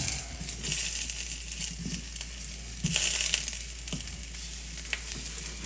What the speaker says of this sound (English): go ahead and turn them and continue to sear on this side